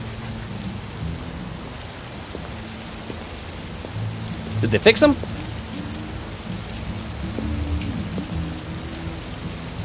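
Steady rain and thunder in the video game Detroit: Become Human: an even hiss of rainfall throughout, with a sharp thunderclap near the middle. A voice speaks quietly over the storm.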